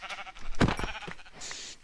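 A brown sheep in the Minecraft video game gives a single close, wavering bleat over faint background game ambience, followed by softer blocky in-game noises.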